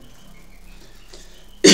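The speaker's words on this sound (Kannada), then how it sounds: "ಹೌದಪ್ಪಿ, ಕೆಮ್ಮು ಬರತ್ತದ" A single sharp cough bursts out at the very end, loud and close, during a live economics lecture for a police exam. Before it there is only quiet room tone.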